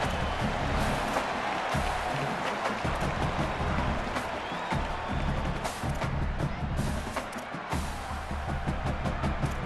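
Crowd noise fills a stadium during a college football video game on third down, a dense, steady roar of cheering and clapping with brief swells, heard alone without commentary.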